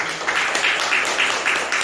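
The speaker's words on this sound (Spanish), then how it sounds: "Denle un aplauso al Señor" A church congregation claps for the Lord during a Spanish-language sermon: dense, steady applause that stays loud for the whole moment, with no voices over it.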